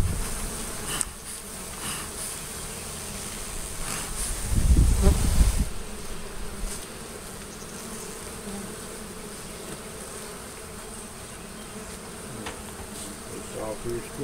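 Honeybees from an established hive with several combs under an elevated house in Ansley, Mississippi, buzz steadily and closely throughout, with a louder swell of wind or handling noise midway.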